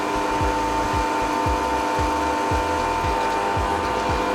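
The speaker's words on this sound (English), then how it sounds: "and then onto the polisher. That helps to seal the toe" A polishing machine runs steadily while sealing the linseed-oiled, waxed toe of a cricket bat in a bat workshop, its loud continuous whine broken by a regular rhythmic thump roughly every half second.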